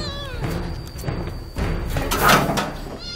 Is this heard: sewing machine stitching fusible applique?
no